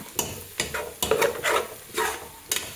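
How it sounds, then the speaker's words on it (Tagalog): Ingredients for papaitan being sautéed and stirred in a pan: a soft sizzle under repeated scraping strokes of a utensil against the pan, close and moderately loud, with no voices. "Igigisa pa natin. Medyo pa brownin natin ng konti."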